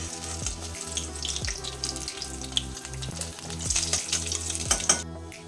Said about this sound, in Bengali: এই একইভাবে আমি বাকি 2টো মাছও ভেজে নেব